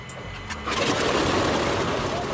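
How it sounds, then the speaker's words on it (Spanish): A World War II Japanese carrier aircraft engine, warmed by preheated oil, starts up and catches immediately, quickly swelling into a loud continuous roar, with a voice talking over it. "El motor está en marcha."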